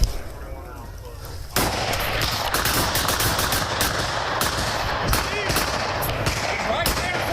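Gunfire during a police shootout with an armed suspect: after a quieter opening, dense rapid shots crack in sustained bursts, loud and close, with shouting voices mixed in.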